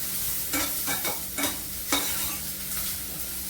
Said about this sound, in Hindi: अब इसमें डाल देते हैं स्वीट कॉर्न थोड़ा सा, और इसको भी हल्का भूनेंगे